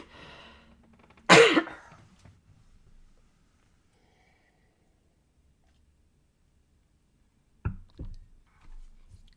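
A single sharp, close cough bursts out after faint mumbling, followed by a long silence and then a few soft throat sounds and clicks near the end.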